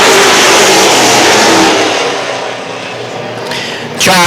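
Late model race cars roar away at the green flag of a 50-lap main event, a loud dense wall of engine noise that swells and then eases slightly as the pack pulls off.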